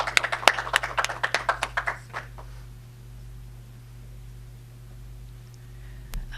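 Scattered claps from a small audience at a documentary screening, a quick burst of individual handclaps over the first two seconds that quickly dies away, leaving low room hum and a faint tap near the end.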